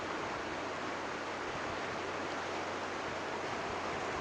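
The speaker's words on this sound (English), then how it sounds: "there's a real strong sound of babbling water" Water in a creek beside a house babbles and rushes in a steady, continuous wash of sound, moderately close, with no voices.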